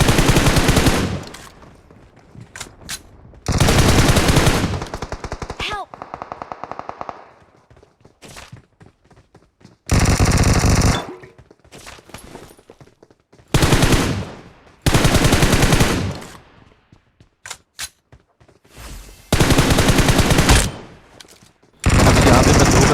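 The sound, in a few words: gunfire in a battle royale video game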